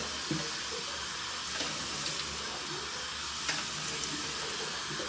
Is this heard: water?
yes